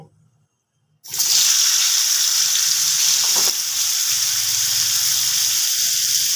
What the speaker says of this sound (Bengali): এবার আমি আলু ফুলকপিগুলোকে তেলের মধ্যে দিয়ে দেব